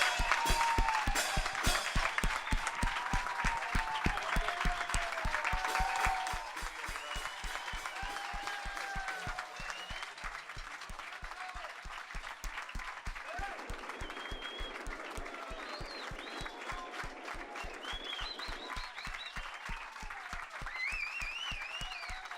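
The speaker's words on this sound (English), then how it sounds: "Can everybody give that real big round of applause" Round of applause from a school audience at Aranzadi Ikastola after an ARISS amateur-radio contact with the space station, dense clapping that is louder for the first six seconds, then settles into steady, slightly quieter clapping with faint voices and whistles over it.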